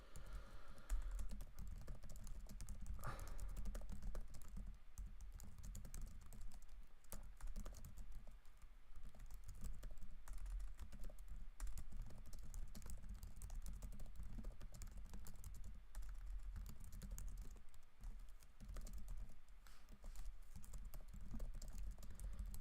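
Computer keyboard typed on continuously while entering network configuration commands, a dense, steady patter of fairly quiet key clicks with no pauses, close up and alone.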